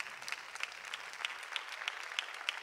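A church congregation claps together in a steady, even beat, the sharp hand claps landing about three times a second at moderate volume in a reverberant room.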